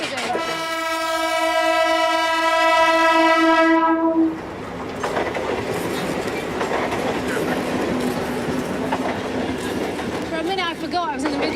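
A train on a live Mumbai railway line sounds a long, loud, steady horn blast, then rumbles past close by with continuous clattering wheels and car noise.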